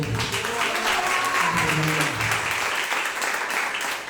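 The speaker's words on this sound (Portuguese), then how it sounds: "Você pode aplaudir ao Senhor." Congregation applauding in a church service, a sustained wash of clapping over about four seconds with a voice and some music or murmur underneath.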